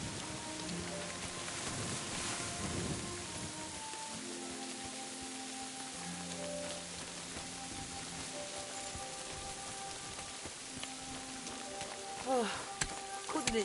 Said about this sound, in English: Couldn't it stop raining